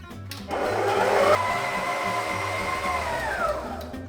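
Stand mixer kneading focaccia dough with oil and salt added, a loud steady motor whir starting after half a second and running continuously with a slight pitch shift, no talk.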